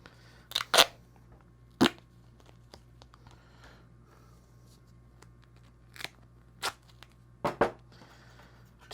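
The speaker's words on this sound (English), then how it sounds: "I'm going to take a piece of tape" A piece of tape pulled and cut, several short sharp snips and rips scattered across a quiet background, some in quick pairs.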